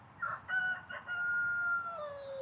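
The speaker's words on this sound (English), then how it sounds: "woke up and gave us a cock-a-doodle-doo" A rooster crows a drawn-out cock-a-doodle-doo close by, loud and clear, with short opening notes rising into a long sustained call that falls away at the end, no talk over it.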